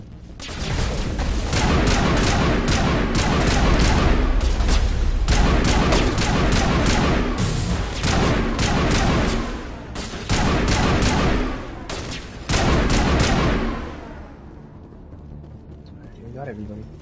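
Heavy, sustained explosive fire in Mass Effect Legendary Edition, a rocket launcher among the weapons, booms and crackles almost continuously for over ten seconds before tapering off, with voices talking over the din.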